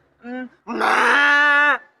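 A voice gives a short low bellow, then a longer, louder drawn-out lowing call, imitating a buffalo.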